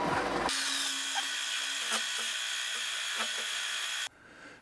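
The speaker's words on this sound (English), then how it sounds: "push the drill all the way through" A power drill whines steadily at high pitch for about four seconds, close up, drilling through metal for a lathe tailstock die holder, with small clicks and taps along the way before stopping abruptly.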